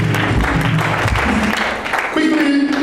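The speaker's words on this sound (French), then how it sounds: "Acclame pour Jésus." A church congregation claps and cheers for Jesus, steady dense applause running throughout, with a voice speaking over the crowd near the end.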